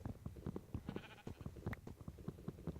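Several sheep in Minecraft bleat in quick, repeated short calls, close and clear, with no voices over them.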